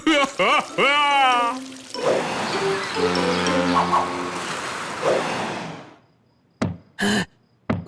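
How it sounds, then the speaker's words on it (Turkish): A cartoon toilet flush rushes and gurgles for several seconds, loud and close, then fades away. Cartoon voices speak before it, and there are sharp knocks afterwards. "Aa, sifondur sifon."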